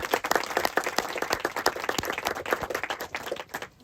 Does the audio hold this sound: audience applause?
yes